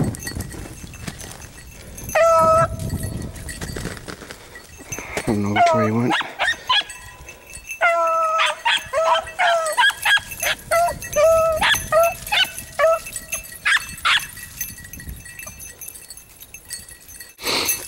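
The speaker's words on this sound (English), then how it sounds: "These dogs haven't been exposed to this too much, but they're able to turn the rabbit" Hunting dogs bark and yip in repeated bursts while chasing a cottontail rabbit during a small-game hunt, some barks near and loud, others overlapping, with a person talking briefly in between.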